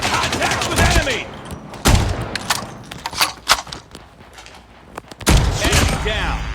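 Shotgun blasts in the mobile shooter game COD Mobile, several loud booming shots spaced irregularly among quieter game sounds.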